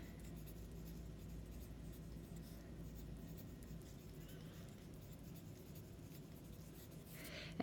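A pen writes notes on paper during a math lesson, a soft continuous scratching and rubbing of strokes, faint and close, with no talking over it.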